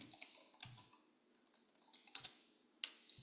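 A few sparse keystrokes on a computer keyboard, typing a short search for AI apps: scattered crisp clicks with a couple of louder taps near the end, close and alone with no talk.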